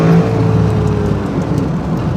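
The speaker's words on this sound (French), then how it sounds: "Regardez comment elle rétrograde super bien." A car with a ZF Tiptronic six-speed automatic gearbox downshifting, a loud close engine drone with a brief rising whine as revs change.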